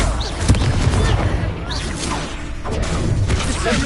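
A Confringo blasting curse bursts during spell combat in Hogwarts Legacy, one sharp explosive blast among a steady stream of magical impacts, whooshes and crashes, with a voice heard over the fight.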